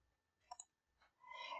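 A computer mouse on a Windows PC gives two quick, faint clicks close together, followed by a soft, brief rustle.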